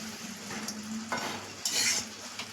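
A spoon scrapes and stirs pui pituli with prawns in a pan, soft clinks and scrapes over a low sizzle, with a brighter rustling stir near the end.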